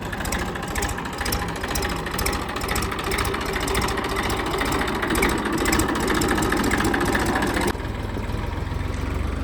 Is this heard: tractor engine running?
yes